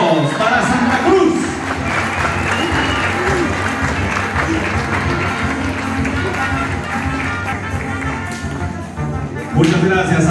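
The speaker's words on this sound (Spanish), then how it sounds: "¡Aplausos para Santa Cruz!" Audience at the Señorita Integración 2016 pageant applauding Santa Cruz, loud sustained clapping with some cheering that swells again near the end.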